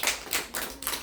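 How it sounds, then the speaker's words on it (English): A classroom of students claps for a classmate coming to the front, a brief burst of several hand claps in a loose, uneven rhythm, close and moderately loud. "Can we clap for him while he comes?"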